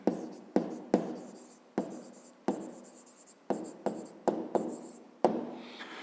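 A pen scratches across paper in short bursts of writing, a close series of sharp strokes separated by brief pauses, as a fifth-grade maths exercise about counting triangles is worked out.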